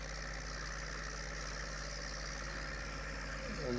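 A tractor engine idles steadily in Farming Simulator 19, a continuous low mechanical drone that holds at an even, fairly close level throughout with no talk over it.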